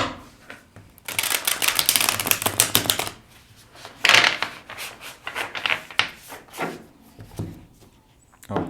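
Tarot cards being riffled and shuffled by hand in a quiet room, a dense burst of rapid flicking clatter followed by softer intermittent card rubbing and taps, close and fairly loud.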